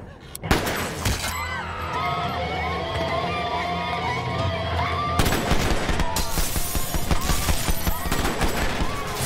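Gunfire in a film hostage scene, sharp bangs and bursts followed by a dense, chaotic stretch of shots, shattering and commotion with voices mixed in, loud and close.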